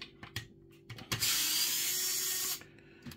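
A hand screwdriver removing screws from an Xbox Series X console during a fan repair: a few small ticks and clicks, then a sustained grinding scrape for over a second as a screw turns out, up close.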